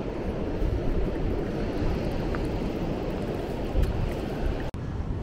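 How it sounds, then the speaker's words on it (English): A small waterfall on a sandy beach at Sandown on the Isle of Wight gives a steady, broadband rush of water, close and continuous, with wind and surf mixed in. "little waterfall."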